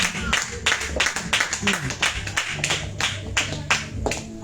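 Congregation at a church service clapping rhythmically in a steady beat, loud and close, with voices and other sound mixed underneath.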